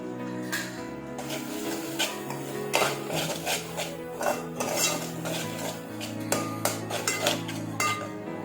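Spicy noodle ingredients mixed in a dish: a utensil scrapes and clinks against the bowl in quick irregular strokes, close up and alone, with repeated sharp metallic taps among steady stirring.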